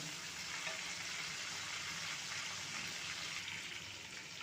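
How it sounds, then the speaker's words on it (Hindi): Mutton fries with masala in a pan for junglee pulao, giving a steady, dense sizzle that holds evenly throughout with no pauses or talk. "3 से 4 मिनट तक गोश्त को फ्राई करते रहें"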